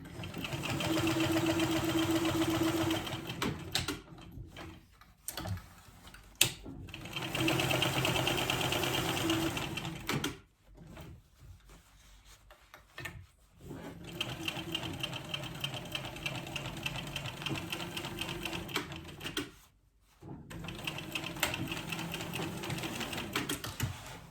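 A sewing machine back stitches across a crossbody bag's pocket in steady bursts of rapid needle chatter, with short pauses between passes and a longer quiet gap partway through.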